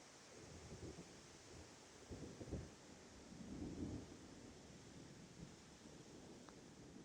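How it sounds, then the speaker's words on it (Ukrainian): Faint, distant thunder rolls low and soft under a steady outdoor wash of wind beside a small river, with a couple of slightly louder rumbles. "Гром десь там гримить."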